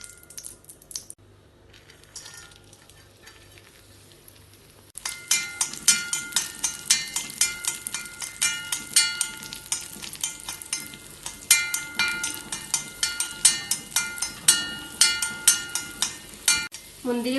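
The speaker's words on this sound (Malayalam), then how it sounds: "വീണ്ടും നെയ്യ് ഒഴിച്ച് ചൂടാക്കി കുറച്ച് ഉണക്ക മുന്തിരി വറുത്തെടുക്കാം." Raisins fry in hot ghee, a quiet start giving way to a continuous close sizzle with rhythmic stirring clinks and scrapes from a spoon working the pan.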